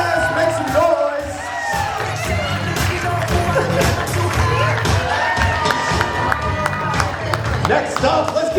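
Wedding guests clapping and cheering together, with whoops and shouts rising over continuous close applause that stays loud throughout.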